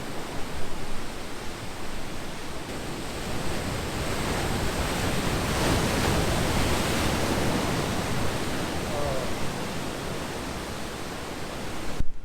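Ocean waves breaking along the Madeira coast, a broad continuous roar of surf that swells gently toward the middle and eases off, steady and enveloping with no voices.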